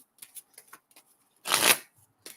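A deck of tarot cards riffled in one quick, close burst of papery fluttering, set between soft handling taps and brief pauses.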